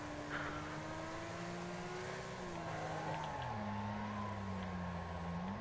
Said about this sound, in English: Your engine sounds very sick